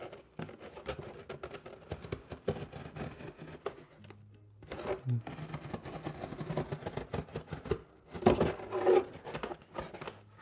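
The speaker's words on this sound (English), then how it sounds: "So with our trusty knife, what I'm doing, I'm cutting along the edge." A trusty knife slices along the edge of a cardboard box being made into a guinea pig toy, giving quiet, scratchy, uneven rasps in short bursts with small pauses between strokes.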